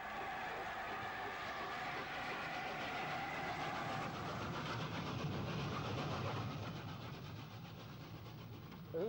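LNER A4 steam locomotive Golden Plover pulls away from a station platform on an Aberdeen service, a steady rumbling roar with rhythmic wheel clatter, fairly near and fading slightly toward the end.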